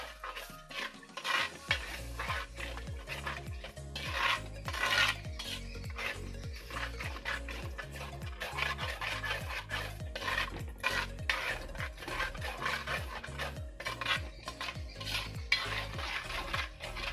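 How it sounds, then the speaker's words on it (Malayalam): A spoon stirs sail fish curry in a pot, with a regular scraping rhythm of about one stroke per half second, close and steady, over a soft simmering sizzle after a chili, coriander and turmeric paste mixed in water goes in. "എന്നിട്ട് നന്നായിട്ട് ഇളക്കി കൊടുക്കാം"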